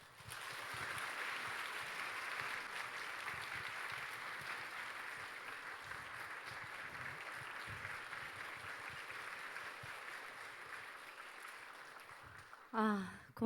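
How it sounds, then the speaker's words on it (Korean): Church congregation applauding steadily to welcome a guest speaker at a testimony service, a broad even clapping that runs for most of the span, then fades as a voice briefly begins near the end. "이 시간 큰 박수로 모시고 말씀을 듣도록 하겠습니다."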